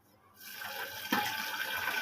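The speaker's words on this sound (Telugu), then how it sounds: "ఆయిల్లో పెట్టుకున్న టమాటాలని వేసుకుందాం." Tomatoes dropped into hot oil with onions frying in a home kitchen, a sudden hiss rising into a steady, close sizzle with a sharp splash-like burst partway through.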